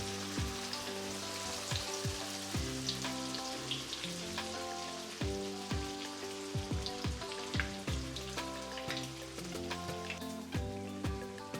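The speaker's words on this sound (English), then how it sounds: "So as soon as it sizzles, throw it all in the oil." Tofu frying in hot oil sizzles steadily with a crackling, rain-like hiss, punctuated by scattered pops and occasional stirring clatter, continuous and close throughout.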